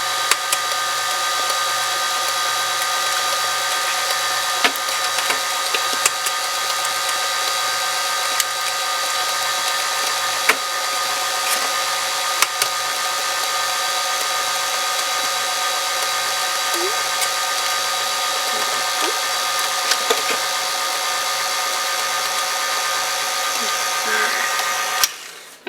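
Electric mixer whirs steadily and continuously close by, blending three large eggs into banana sour cream cake batter made with a Pillsbury mix, with occasional light knocks against the bowl.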